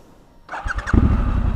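A 2019 Triumph Scrambler 1200 XE motorcycle restarts on a dirt road, a short starter whir then the engine catching with a deep, loud rumble that settles into a steady idle close by.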